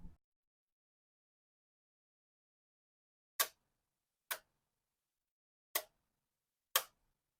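Four crisp, close clicks spaced about a second apart as the door of a diecast model Mercedes-AMG G63 snaps shut, each sharp and brief against near silence.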